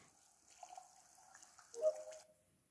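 Soft shower water hisses steadily in Among Us on the Airship map, with a brief chime-like tone near the end before it cuts to silence.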